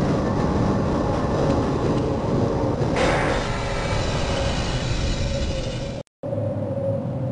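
A rail tram in Half-Life rolls toward a station with a steady, loud mechanical rumble and hum that shifts in pitch midway, then briefly cuts out before resuming.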